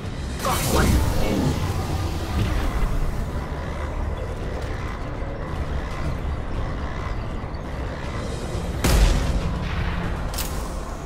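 Gunfire and explosions from the Mass Effect video game during the suicide mission, with a booming blast near the start and another around nine seconds over a constant loud rumble of combat, under speech.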